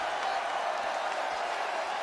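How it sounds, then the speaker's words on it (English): A wrestling arena crowd cheers and roars in a dense, steady wash of noise, loud and sustained, with no distinct voices standing out. "The crowd now getting all fired up"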